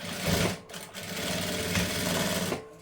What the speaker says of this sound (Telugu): ఇట్లా వచ్చేస్తే ఇప్పుడు మన కుట్టనే వేసేసుకోవాలి